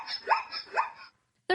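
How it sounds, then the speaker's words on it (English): A recorded zebra call made of two hiccup-like rising yelps over a steady harsh bray, ending abruptly and followed by silence and a brief burst of another sound. "and a zebra."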